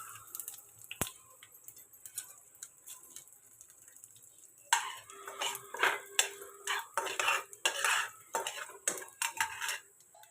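Curry leaves and urad dal stirred in a pan with mustard seeds and cumin for vada pav, quiet at first, then a run of rhythmic metal spoon scrapes and clinks against the pan, close and alone.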